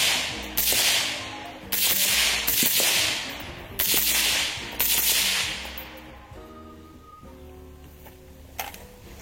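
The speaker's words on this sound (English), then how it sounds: "And this is an ear-safe suppressor." A Troy rifle fitted with an ear-safe suppressor fires about five sharp, close cracks, each followed by a short decaying tail, spaced roughly a second apart, and then a quieter stretch with a faint click.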